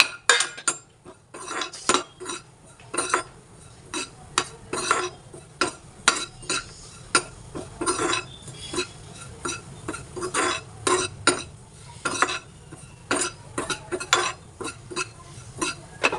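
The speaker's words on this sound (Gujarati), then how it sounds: "આપણે થોડું કોપરાનું છીણ શેકી લઈશું" A spoon repeatedly scrapes and clinks against a pan while grated coconut is stirred and roasted, the irregular metallic strokes clear over a faint background sizzle.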